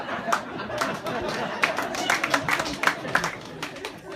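Audience at a stand-up comedy show breaks into scattered, uneven clapping with crowd murmur and chatter, a modest round of applause rather than a full ovation.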